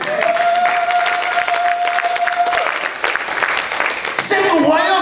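A church congregation claps and cheers in praise of God, a dense, loud wash of applause with crowd voices and a sustained tone from music running beneath it, ending in a brief burst of higher sound.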